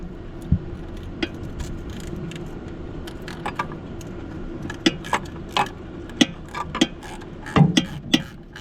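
Removing the valve cover from a 1970 Jeep CJ5 engine produces sharp metallic clinks, taps and rattles of tools and bolts, irregular and close, over a quiet background.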